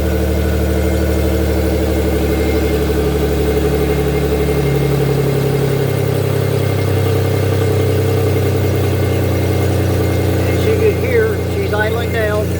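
A 2008 Pontiac G6 engine idles steadily and loud up close, its low hum dropping a little partway through as the revs settle, with a voice talking over it near the end.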